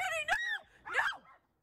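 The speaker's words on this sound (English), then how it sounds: "A coyote lunged for Ruby as she barked, but she was protected by a fence." A dog barks and yelps at a coyote near Tanner Park in Salt Lake City, giving two sharp, close, high-pitched outbursts followed by silence.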